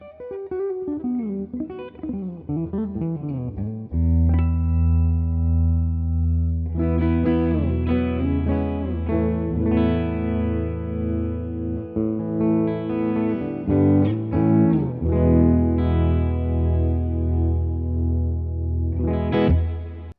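Electric guitar played with a clean tone through a Neural DSP Tone King Imperial MKII amp plugin: picked single notes and slides, then ringing chords and arpeggios with chorus-like shimmer and reverb tails, loud and close with no voice.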